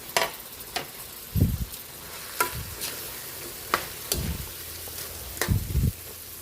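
Bitter gourd and string beans go into a pan of cooking vegetables with squash, okra and shrimp, giving a few scattered scrapes and stirring clatters over a soft, steady sizzle.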